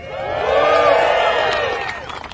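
Workers at a South Carolina steel plant cheer and whoop as a crowd, a swelling burst of voices that builds, peaks and fades over a couple of seconds.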